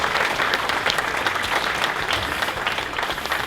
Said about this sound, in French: Vous applaudir encore une fois, merci beaucoup.